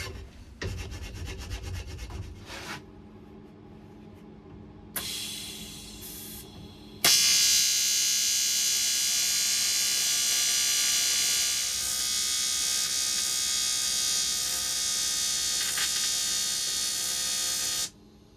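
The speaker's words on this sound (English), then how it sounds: "Finishing it off nicely with a bit of draw filing on the profile just to make a nice smooth edge." A hand file draw-filed along the profile edge of a steel seat bracket, a long continuous rasping scrape after a few shorter strokes at the start, close and loud with no talk.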